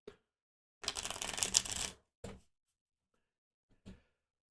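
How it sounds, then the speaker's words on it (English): Tarot cards are shuffled close by in one dense, riffling burst of about a second, followed by a couple of short card snaps, with near silence around them. "Let's just shuffle this one more time."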